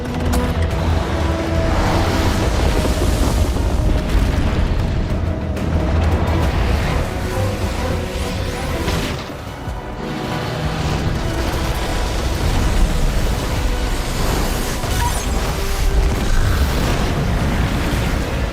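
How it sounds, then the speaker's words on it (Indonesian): An explosion sets off an avalanche in the action film The Ice Road, heard as a loud, dense, sustained roar and rumble that fills the whole stretch, dipping briefly in the middle before swelling again. "terdengar ledakan yang mengakibatkan longsoran salju"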